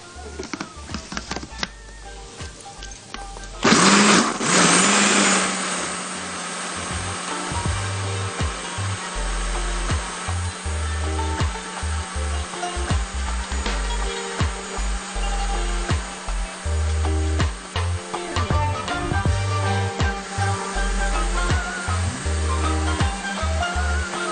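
An electric mixer beats Caesar salad dressing made with anchovy, black pepper and a pinch of salt, switching on with a loud burst, then running as a steady whirring drone with clattering bursts against the bowl for about twenty seconds.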